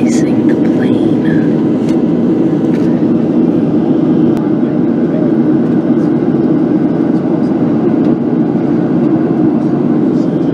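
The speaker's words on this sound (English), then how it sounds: "They're de-icing the plane." An airplane being de-iced before takeoff: a steady, loud, close rumbling roar of machinery and spraying that holds constant throughout, with no clear voices over it.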